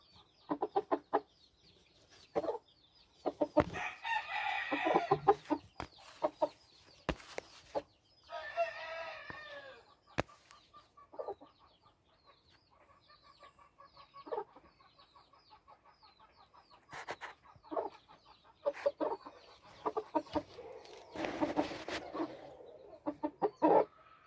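Regular gray game chickens in summer heat, scattered clucks and several loud crowing bursts from roosters, close by with quiet gaps in between.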